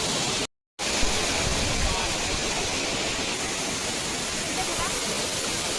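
Constant roar of Amboli waterfall at Amboli Hill Station, a dense wash of falling water that drops out for a split second near the start, then continues unbroken.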